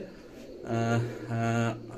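Teddy pigeons of the KTM line coo nearby in two clear drawn-out calls, each lasting about half a second, separated by a short pause, over faint background noise.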